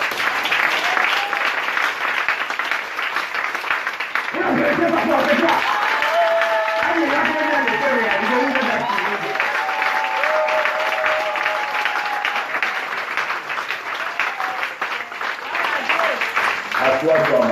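A church congregation claps and applauds steadily throughout, a dense sustained patter of many hands, while a voice speaks and sings over it.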